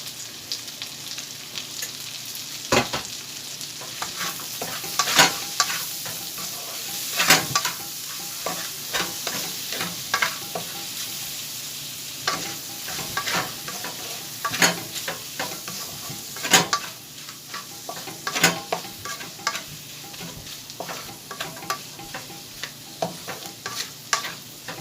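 Tomato, green chilli and capsicum sizzle steadily in a pan, punctuated by frequent sharp scrapes and taps of a spatula stirring them, with no talking.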